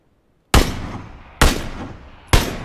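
Three loud, separate gunshots in a multiplayer video game, each a sharp crack with a decaying tail, spaced about a second apart.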